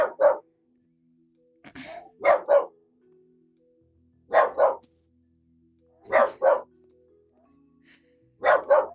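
A dog barks in paired bursts, woof-woof, repeating about every two seconds in an otherwise quiet room, fairly close and loud.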